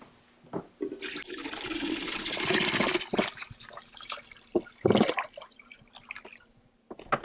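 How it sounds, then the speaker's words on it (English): Water splashes and trickles into a Travel Berkey gravity water filter in an RV, in uneven gushes and drips with a few louder bursts, close by and without speech. "once I stick this in, it's actually going to take maybe an hour or so for it to filter all the way through"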